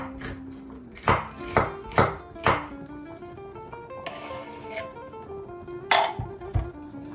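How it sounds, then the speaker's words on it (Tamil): A knife chops onion and bell pepper on a board in a home kitchen: a few sharp, evenly spaced cuts, a pause with soft rustling, then a couple more crisp chops, close and fairly quiet. "அதே மாதிரி வந்து பெல் பெப்பரையும் அதே மாதிரி தான் கட் பண்ணிக்கிறேன்."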